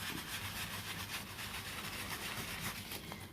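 A cloth rubbing firmly over a vintage embossed tag, a steady continuous scrubbing hiss with faint low hum beneath, close and unbroken throughout.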